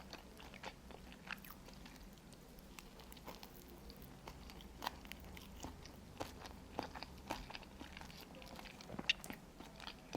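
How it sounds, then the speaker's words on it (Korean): Kimchi dumplings being bitten and chewed up close in a quiet room, with soft repeated crunchy bites and wet mastication sounds at an irregular, unhurried pace. "김치만두로 시작해요."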